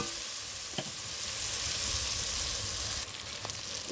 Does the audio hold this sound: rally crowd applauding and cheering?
no